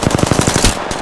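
Video game gunfire rattles in a rapid, evenly spaced automatic burst of about a dozen shots, loud and close, with no speech over it.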